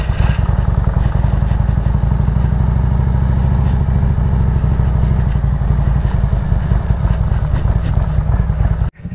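A loud, steady rumbling motorcycle engine runs throughout, close and continuous, cutting off abruptly at the end.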